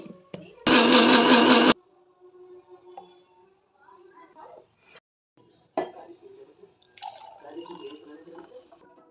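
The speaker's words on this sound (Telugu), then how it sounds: "ఇప్పుడు దీన్ని అయితే మిక్సీ వేసేద్దాం" A blender roars loudly for about a second blending watermelon with water, then stops, followed by quiet kitchen clinks, drips and dish handling.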